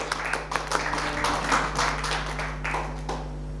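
A church congregation at a worship service claps in applause, a dense, continuous patter of many hands, with a steady low hum beneath it throughout.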